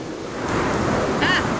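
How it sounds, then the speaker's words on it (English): Wind blows in the survival game Sons of The Forest as a soft, breathy rush that swells slightly, with a faint thin whistle rising briefly near the end. "Ah, wind."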